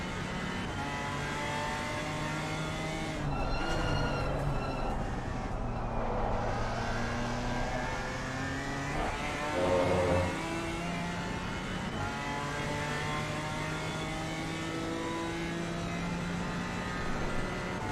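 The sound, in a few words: race car engine in PC racing game at Brands Hatch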